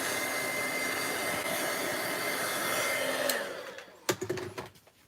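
Heat tool drying ink on a card, a loud steady blowing whir that cuts off after about three seconds, followed by a few clicks and handling sounds.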